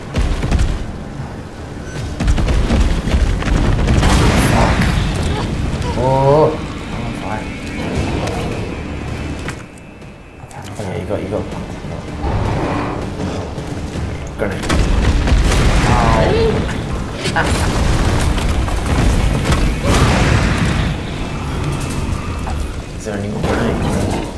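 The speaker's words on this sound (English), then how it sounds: "Use the grenade launcher." Grenade launcher blasts in the video game Resident Evil 3, repeated heavy booms and rumbling impacts amid game music and effects, loud and close, with people talking over them.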